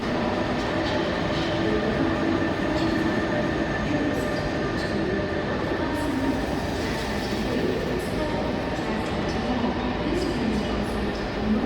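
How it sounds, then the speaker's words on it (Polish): A European Sleeper night train pulls into a station, giving a continuous rumble of rolling wheels and rail noise with faint squeals and clicks, steady and moderately loud throughout, with no talk. "W końcu nasz European Sleeper nadjechał."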